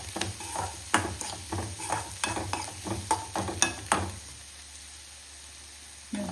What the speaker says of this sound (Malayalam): നമ്മളത് വഴറ്റി കൊടുക്കാം